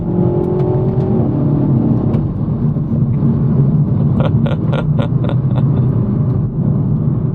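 A Renault Megane RS 300 accelerating hard in third gear on a country road, heard from inside as a loud, steady engine roar with rising revs and a few short whirring bursts.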